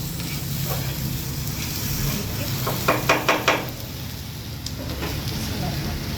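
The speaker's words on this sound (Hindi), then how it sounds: "मुझसे मुझे आप वो दे दें पैन में, उसके अंदर चिकन डाल दूँ ताकि ये ड्राई ना हो जाए।" Chicken sizzles in a pan with barbecue sauce, a steady close frying hiss with a short run of clinks partway through.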